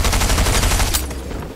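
Rapid automatic fire from a gold SMG in a video game, a loud, dense burst of shots that rattles close up, then cuts off and tails away.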